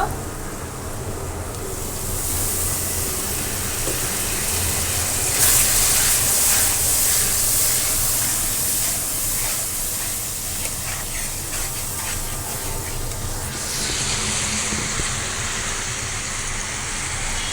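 Water is splashed into frying ground spice paste in a Bangladeshi karahi. A loud, broad steaming hiss bursts up and holds for several seconds, then eases off.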